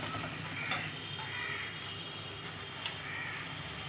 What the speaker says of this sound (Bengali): আবার ভালো করে কষে নেব। ভালো করে মশলাটা কষে নেব।